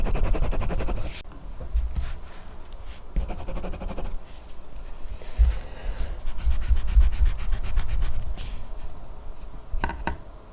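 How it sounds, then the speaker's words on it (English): A Staedtler Wopex pencil's built-in eraser rubs on paper in scratchy strokes, close and uneven with short pauses, with no talking. "So let's test the eraser."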